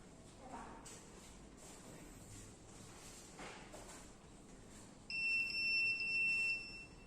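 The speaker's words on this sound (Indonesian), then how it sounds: "Maka alarm akan berbunyi dan palang pintu otomatis tidak akan terbuka." A shrill electronic temperature alarm on a school robotics project, triggered by heat from a soldering iron, starts partway through and sounds steadily over faint background noise, loud and close.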